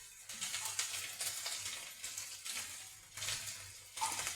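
Spice paste frying in a pan, a continuous loud sizzle that swells in waves as it is stirred and pressed, with no one talking.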